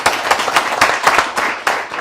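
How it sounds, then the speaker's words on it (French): A small group of people clapping to welcome a guest on a talk show, loud and close, with uneven bursts of claps forming a quick, irregular rhythm over about two seconds. "Un tonnerre d'applaudissements pour lui."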